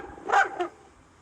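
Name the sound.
excited dog barking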